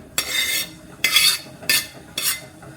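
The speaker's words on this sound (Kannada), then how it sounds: "ಕಟ್ ಮಾಡ್ಕೊಂಡಂಥ ಹಲಸಿನ ಹಣ್ಣನ್ನು ಕಡಾಯಿಗೆ ಹಾಕ್ಕೊಳ್ತಾ ಇದ್ದೀನಿ" Cut jackfruit pieces go into a kadai pan on a gas stove as four separate clattering, scraping bursts of metal and spoon spaced about half a second apart, close and crisp, with no voices.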